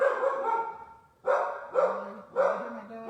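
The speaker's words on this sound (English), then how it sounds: "my dog is barking at him" A dog barking at a neighbor across the street, three sharp, fairly loud barks spaced about a second apart, heard alone without speech.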